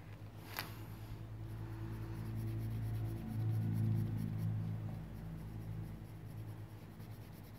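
Colored pencil lightly shading on paper, a soft continuous scratchy rubbing up close that swells slightly midway, over faint background music and hum.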